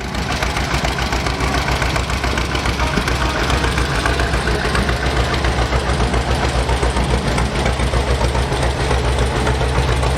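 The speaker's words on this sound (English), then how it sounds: "These tractors are owned by Roger Janker." Antique tractor engines, among them a 1937 B, idle steadily in a small-town anniversary parade in Raymond, South Dakota, a loud, continuous low rumbling chug with a rough knocking pulse that holds evenly throughout and has no voices over it.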